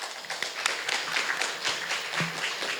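Applause at a forum on digital transformation for mid-sized companies after a ministry official is thanked, a fairly soft, scattered patter of individual claps from a modest audience, uneven in rhythm.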